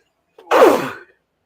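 A single close, loud sneeze from a man during a sports talk show, a sharp breathy burst that fades within half a second.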